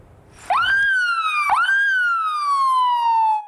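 An ambulance siren wails loudly and alone, two rising-and-falling electronic sweeps starting in quick succession and holding steady, close by.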